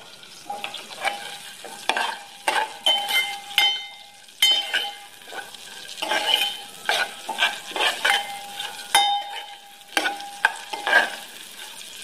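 Onions sizzle and fry in a pan with repeated stirring and scraping, a steady crackle punctuated by spoon strokes, close up with no talking.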